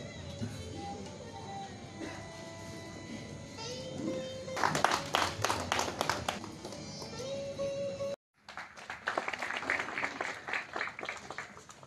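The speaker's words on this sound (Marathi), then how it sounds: "सर्वांनी जोरदार टाळ्या वाजवाव्या" Audience applause for army soldiers at a felicitation ceremony in Chopdem, Pernem: a bright, dense burst of clapping builds after steady room murmur, then breaks off and resumes as a second sustained round.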